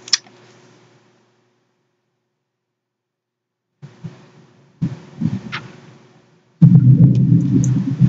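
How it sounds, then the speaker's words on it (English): Thunder rumbles deep and low enough to shake a house, arriving in several heavy bursts after a quiet stretch and building to a loud, sustained roar at the end, with no voices. "thunder just shook my house"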